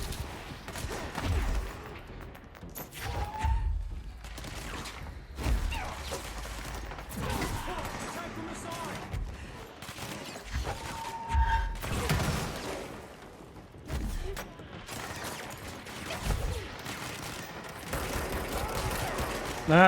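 Bursts of gunfire from a sniper in the video game Control come in uneven volleys across the stretch, loud and sharp against a busy game backdrop.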